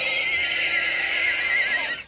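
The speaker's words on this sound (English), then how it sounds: "a horse's whinny tore through the air. Then a gentle clip-clop, clip-clop sounded out" A horse gives a loud, drawn-out whinny close by, the high wavering neigh filling the moment before it tails off.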